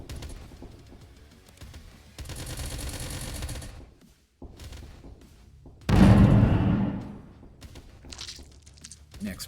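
A mortar fires in the train-defense video game Doomtrain, one heavy booming blast standing out among lighter gunfire and game noises, loud and close.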